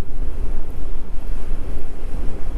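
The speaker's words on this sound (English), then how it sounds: "I guess y'all can hear the wind blowing" Strong wind gusts buffet around a camper trailer, a loud continuous roaring rush with uneven surges throughout.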